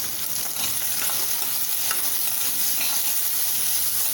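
Red bell pepper sautés in a pan with a steady, close sizzle and crackle, joined now and then by faint scraping as it is stirred.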